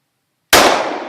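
A single sharp, loud gunshot from a Glock 21 .45 ACP pistol fired at an old iPod Touch outdoors bursts after silence and then rings off in a short decaying tail.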